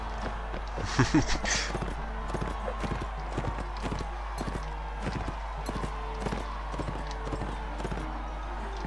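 Rhythmic horse hooves clip-clopping steadily in a video game while a rider turns the horse, with a louder burst near the start and occasional whinny-like sounds.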